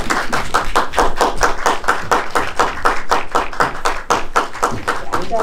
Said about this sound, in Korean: 제가 이름 한 분 한 분 불러드릴 테니까 큰 박수로 맞이해주세요